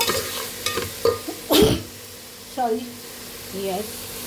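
Broken wheat dalia being stirred and lightly fried in a pan, with several scraping stirs and a soft sizzle underneath, while a voice speaks briefly in between.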